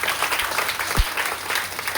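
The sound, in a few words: audience clapping loudly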